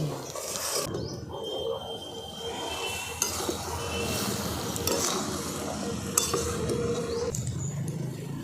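Country chicken being sautéed down in a pan with green chillies, a loud dense sizzle with a rough, rumbling texture, punctuated by a few sharp clinks of a spatula against the pan.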